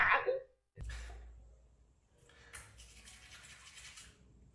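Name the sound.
brushing teeth with a toothbrush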